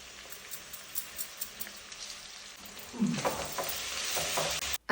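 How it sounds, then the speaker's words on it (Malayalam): Chopped onion and ginger frying in coconut oil, a steady close sizzle with the scrape of a spoon stirring through the pan, growing louder and busier toward the end. "അങ്ങനെ ഇഞ്ചിയും സവോളയും നന്നായിട്ടൊന്ന് മൂക്കുന്നത് വരെ നന്നായിട്ടൊന്ന് ഇളക്കുക."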